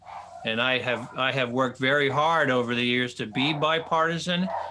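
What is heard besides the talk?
dog barking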